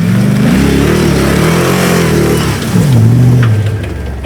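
A loud off-road vehicle engine revs hard and steadily, dips briefly, then surges again as it climbs a rough, rutted uphill track, close by with no talking.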